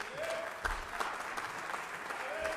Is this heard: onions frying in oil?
no